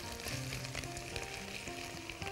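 Fresh tomato juice hits a hot pan for a crepe lasagna sauce, giving a steady, close sizzle and crackle that runs without a break for a couple of seconds with no talking.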